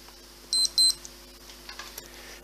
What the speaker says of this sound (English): Action is confirmed by a double beep